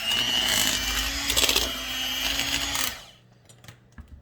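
Electric mixer blending buttermilk cobbler dressing batter, whirring loudly and steadily for about three seconds and then cutting off, leaving faint kitchen clatter.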